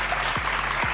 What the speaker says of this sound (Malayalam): ഒരു നല്ലൊരു കൈയടി കൊടുത്തേ.